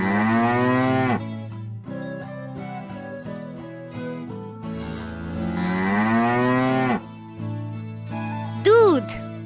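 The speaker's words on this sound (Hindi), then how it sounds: "गाय" A cow moos in two long, loud, drawn-out calls over a steady musical backing, followed by a brief sliding whistle at the end.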